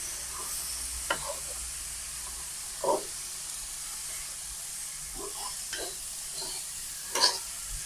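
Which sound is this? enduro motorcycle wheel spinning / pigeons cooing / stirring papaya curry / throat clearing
stirring papaya curry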